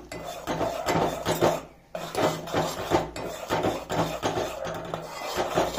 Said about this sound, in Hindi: तो इसमें अभी थोड़ा सा घी भी डाला है, वापिस हिलाते रहना है।